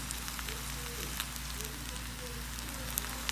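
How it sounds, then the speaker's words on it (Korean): Soft, continuous sizzling and crackling of bibimbap in a hot stone pot, with occasional tiny pops over a low background hum. "돌솥 비빔밥이 지금 불글불글 끓고 있습니다."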